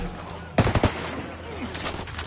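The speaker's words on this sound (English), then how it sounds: "I'm opening fire on these shitheads." In the video game Ghost Recon Wildlands, a quick burst of three or four loud automatic gunshots cracks out during an ambush, then gives way to quieter background noise.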